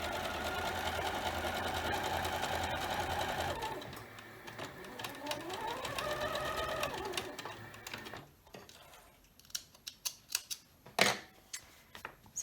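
Sewing machine stitching a quarter-inch seam on a quilt block, a steady close whirring hum for several seconds that slows and winds down, followed by light clicks and handling noises.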